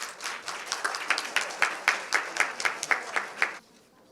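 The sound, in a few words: audience applause for a speaker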